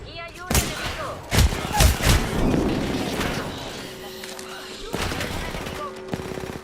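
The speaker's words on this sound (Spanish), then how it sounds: "¡Un enemigo! Me están disparando." Enemy gunfire in a shooter video game: heavy booming shots and bursts close by, with sustained rumbling between impacts and a player talking over the action.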